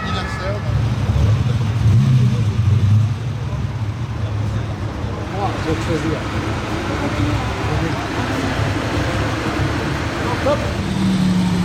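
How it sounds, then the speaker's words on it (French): A coupé car arriving at a Paris car club meet with exotic cars, its engine a low rumble that is louder at first and then settles into steady roadway noise, with traffic around it. "Encore une nouvelle voiture qui arrive, une coupée."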